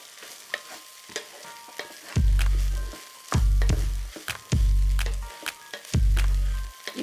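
A spatula scrapes and tosses fried rice in a hot pan, and each stir sets off a loud burst of sizzling. The bursts come in a spaced rhythm between lighter scrapes and taps, close up and without talk.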